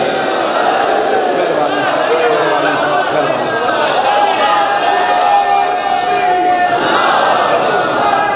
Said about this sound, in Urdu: سارے اونچا ہاتھ بلند کرو ہے علی